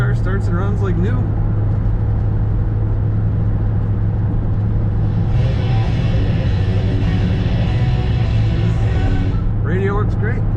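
A 2006 Ford Mustang Saleen S281 convertible cruising on the road, its steady engine drone and road rumble running continuously throughout, with someone talking over it.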